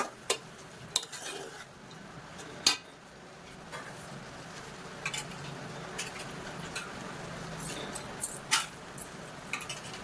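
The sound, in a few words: stirring masala in a pot for masoor dal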